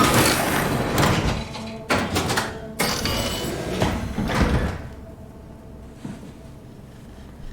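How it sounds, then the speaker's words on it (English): A heavy mechanical door in the video game SOMA, a loud grinding slide in several surges, then a hiss as it closes, with a quiet ambient hum left after. No speech. "Oh, maybe I have to close this door."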